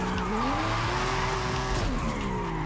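A car drifting in first gear through a drift zone in Forza Horizon 5, with a loud, sustained engine whine that rises and falls alongside continuous tire squeal.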